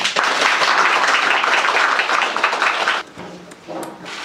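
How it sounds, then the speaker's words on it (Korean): A crowd gathered for a press conference claps vigorously, a loud, dense burst of applause sustained for about three seconds before dropping to a thinner scatter of claps with faint voices. "여러분들의 힘찬 박수로 시작하겠습니다"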